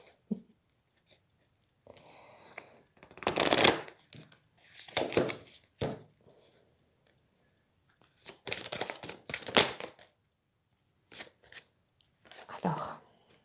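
Oracle cards are shuffled in several dry papery bursts of riffling and sliding, close and fairly quiet, separated by short pauses of near silence.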